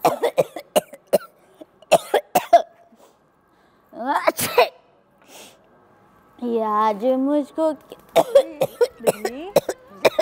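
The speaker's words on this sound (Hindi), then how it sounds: "खांस क्यों रही हो?" A woman coughs in several sharp, close bursts, then sneezes or coughs again, amid singing and talk on a Hindi chat show about tea and toast.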